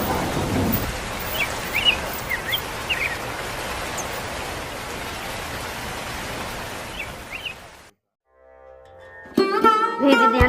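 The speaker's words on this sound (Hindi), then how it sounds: "अरे राम तो बरसाई लगा" Steady heavy rain with rumbling thunder, dense hiss filling the first eight seconds before cutting to near silence, then a burst of music-like tones at the end.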